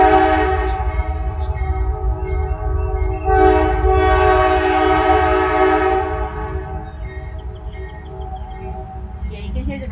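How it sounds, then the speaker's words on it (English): Low rumble of a train passing close by, with a horn tone sustained over it, swelling in the middle and then fading as the train moves on. "you can hear the rumble of the train"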